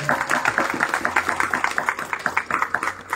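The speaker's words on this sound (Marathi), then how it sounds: "आम्हा सर्वांचे आदरणीय जितेंद्रजी देशप्रभू यांच्याकरता एकदा जोरदार टाळ्या होऊ द्या" An audience at a music concert event applauds for Jitendra Deshprabhu with rapid, dense clapping held at a steady level from start to finish, fairly close and alone.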